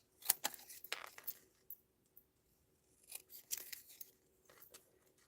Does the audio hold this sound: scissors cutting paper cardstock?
yes